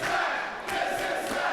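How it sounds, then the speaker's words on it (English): A wrestling-show crowd roars and chants in a large venue, a thick sustained wall of voices with rising surges of cheering. "Listen to this crowd"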